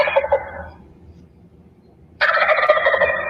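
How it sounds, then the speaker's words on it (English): A wild male turkey gobbles twice, loud and close, rapid throaty rattling calls separated by a pause of near silence. "I bet you guys know what a turkey sounds like. I'm gonna play the call for you."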